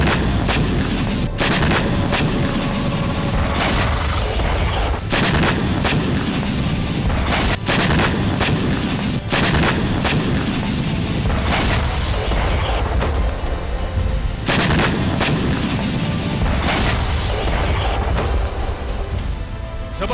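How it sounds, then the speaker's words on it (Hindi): A prolonged barrage of loud blasts and booms at a dam in the Russia-Ukraine war, repeated sharp detonations over a constant roaring rumble, with no voices. "तभी डैम पर एक जबरदस्त धमाका होता"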